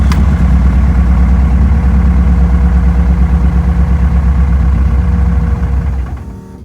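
A Vauxhall Cavalier mk1 with a C20XE engine that has running issues, idling loud and close with a steady low rumble and even pulsing, then faltering and fading out near the end.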